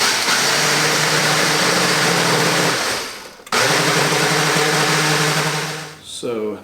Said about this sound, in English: Then we can head over to our blender and blend this up.